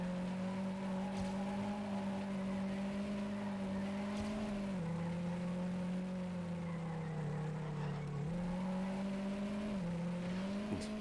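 Coast car engine in Trackmania United Forever, the slowest car in the game, droning steadily with a low buzzing tone that shifts pitch slightly as it drives along a track, continuous and close with no talk.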